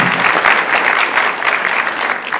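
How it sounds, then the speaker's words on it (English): An audience at a university awards evening claps to mark a 130th founding anniversary, a short, loud burst of dense hand clapping that holds steady and then tapers slightly toward the end. "That's worth a hand clap."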